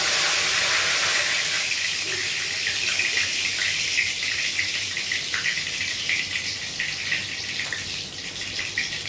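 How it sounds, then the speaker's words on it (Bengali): Onion fries in hot oil with bay leaf and chili, a steady loud hissing sizzle with small crackles that goes on without a break. "এখানে পেঁয়াজটা ভেজে নেব।"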